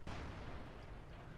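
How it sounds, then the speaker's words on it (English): A tank gun fires once in the World of Tanks video game, a single sharp boom at the start with a rumbling tail that fades slowly. The shot sounds distant and faint. "I think he just fired a shot."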